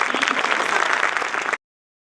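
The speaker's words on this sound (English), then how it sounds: "So with a loud applause, we welcome Dr. Shashikant Sharma in our midst." An audience gives a guest a warm welcome with brief, dense applause that keeps an even level for about a second and a half, then cuts off abruptly into silence.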